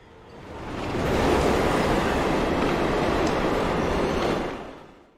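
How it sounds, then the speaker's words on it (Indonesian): A train rushes past close by, its broad rumble swelling quickly, holding steady for several seconds, then fading as it moves away. "seketika ada kereta lewat"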